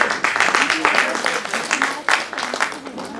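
Audience applause at a musical theatre performance by a Lucknow cultural troupe: dense, steady clapping from a crowd that fills the whole moment, loud and close, with no speech over it.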